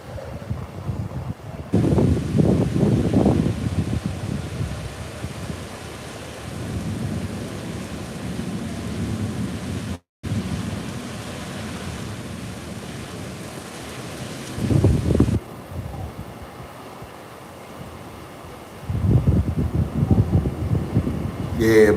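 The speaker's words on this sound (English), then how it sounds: "I just sit and just listen to the rain, man." Heavy rain pours steadily during a tropical storm in Puerto Plata, Dominican Republic, with rumbling thunder swelling in several loud rolls over constant wind and rain hiss.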